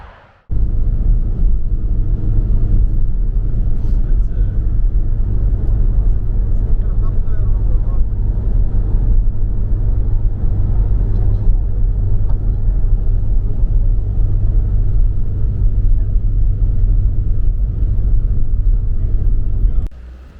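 A Mercedes-Benz Sprinter van is heard from inside while driving on a road: a steady, loud low engine and road rumble runs unbroken for about twenty seconds, then cuts off abruptly.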